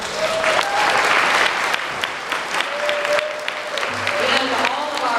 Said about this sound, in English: Can we please have a round of applause for Quanah